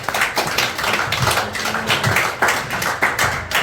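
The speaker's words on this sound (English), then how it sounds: "give him a big round of applause" An audience applauds Darren Bailey at a book tour event, steady close clapping from a small crowd that continues throughout without talk.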